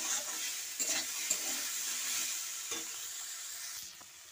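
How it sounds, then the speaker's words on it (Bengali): Potatoes, onion and other vegetables frying in a pan give off a steady, close hiss, with a few spatula scrapes and clinks through it and no talking. "পেঁয়াজটা দিয়ে আমি আরও ভেজে নেব আলু সব সবজিগুলোকে"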